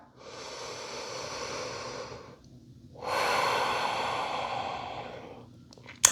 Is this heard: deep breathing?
yes